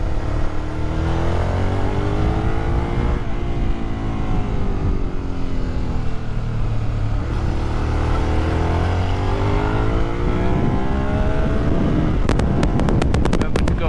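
A Suzuki SV650 V-twin motorcycle running a lean idle drones loud and steady while riding, its pitch swelling and dipping through gear changes, with heavy wind buffeting throughout.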